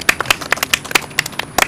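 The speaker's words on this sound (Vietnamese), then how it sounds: "vỗ tay khen bạn con." Children in a classroom clap their hands in praise for a classmate: a short run of sharp, irregular claps, fairly close and alone, with no talking.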